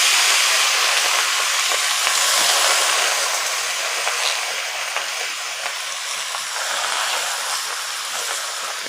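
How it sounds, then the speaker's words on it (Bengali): Taro leaves drop into hot oil left from frying fish for a fish-head and taro-greens dish. The oil gives a loud, continuous steamy hiss that eases slightly over time, with no voices. "মাছ ভাজা তেলেই কচু শাকটা সুন্দর করে দিয়ে দিলাম।"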